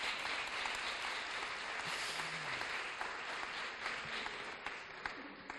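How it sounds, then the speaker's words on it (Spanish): An audience at a talk breaks into steady, sustained applause of many hands clapping, fairly faint and continuous, with a few brief voices underneath. "Aplauso,"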